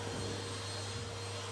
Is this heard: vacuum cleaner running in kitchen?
yes